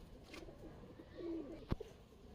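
Giribaz pigeons, a set of four offered for sale, give a soft low coo that swells briefly mid-clip, followed by a sharp knock, over a steady background murmur.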